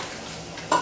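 Thick okro soup is stirred in a cooking pot, giving a steady close scraping and sizzling wash that ends in a brief louder clink of the spoon.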